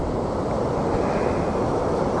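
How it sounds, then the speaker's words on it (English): Glacial meltwater stream rushing down over rocks in a carved mountain valley at Glacier National Park, heard as a steady, loud broadband roar of water that continues without a break, with no voices. "Glaciers have just carved this out, and what you see is mountain glaciated water just coming down and"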